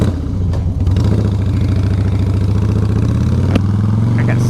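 A Harley motorcycle engine idles in neutral, loud and close, with a steady deep throbbing rhythm and a sharp click partway through.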